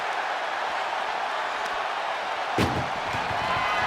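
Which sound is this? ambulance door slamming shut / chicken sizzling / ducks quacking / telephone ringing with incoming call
ambulance door slamming shut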